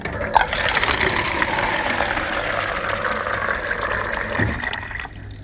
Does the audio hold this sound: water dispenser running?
yes